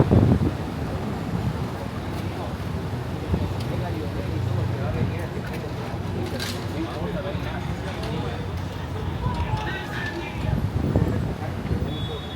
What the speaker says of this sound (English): even more windy.